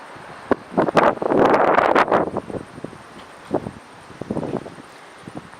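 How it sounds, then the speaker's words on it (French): Gusts of wind rush and rumble against the microphone in uneven bursts, loudest early on, then fading to lighter puffs. "Alors, il y a un peu de vent, désolé pour le bruit"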